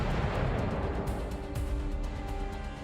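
Cannons boom in a naval battle between wooden sailing warships, the oak-hulled USS Constitution against the Guerrière. Several sharp blasts and cracks ride over a dense, continuous rumble, loud and close, with no voices.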